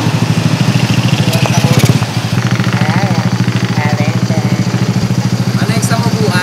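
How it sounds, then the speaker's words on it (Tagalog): A motorcycle engine idling close by with a steady pulsing chug throughout, while people talk over it. "Yan po yung motor namin."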